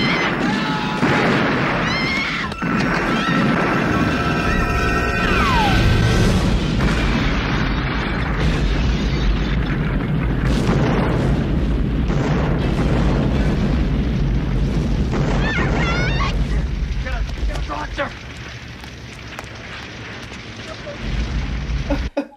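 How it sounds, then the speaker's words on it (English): A huge explosion in a film scene: a long, loud roaring blast with booming, crackling fire and debris that rumbles on for many seconds, dense and close, easing slightly toward the end. "And there's this fuck off great big explosion."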